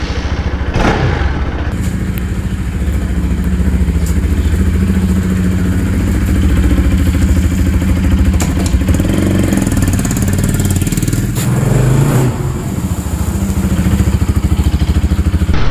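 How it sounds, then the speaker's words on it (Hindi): A Bajaj motorcycle is cold-started and left idling, its engine settling into a loud, steady, close-up putter with a dense rapid beat that runs unbroken, with a few brief rises in revs along the way. "सो बाइक को पहले कोल्ड स्टार्ट कर लेते हैं।"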